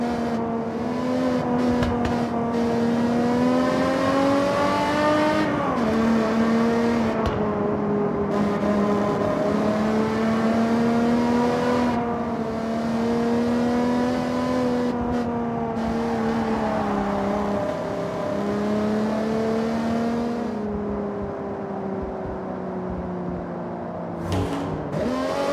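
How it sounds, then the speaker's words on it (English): A BMW M1 races through turns on a wet track in Forza Horizon, its engine note loud and steady for the whole stretch, rising and falling with the gear changes, with no voices over it. "Let's see how fast we can get this M1 ripping around some of these turns."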